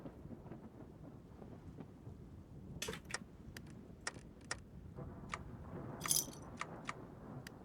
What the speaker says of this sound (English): The sound of thunder and lightning in this game at all times.